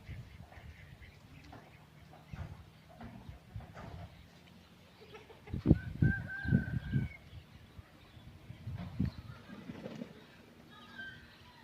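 A flock of over a hundred ducks and chickens on a rural farm beside a natural water source near mountains, giving scattered quacks and clucks, faint and distant, with a brief flurry of louder calls in the middle.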